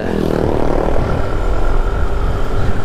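A Yamaha Mio Gear 125cc scooter engine drones loud and steady on a road test through Muñoz, with a constant buzzing hum mixed with rushing wind.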